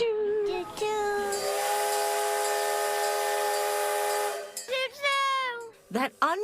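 A loud steam locomotive whistle blows steadily for several seconds, then short whistle bursts and hissing as the locomotive lets off steam, with a voice speaking briefly near the end.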